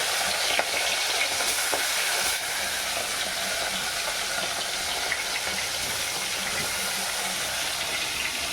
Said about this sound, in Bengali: এবার আমি এই যে বাটা মাছগুলো এই যে বাটির তেলটায় ছেড়ে দেবো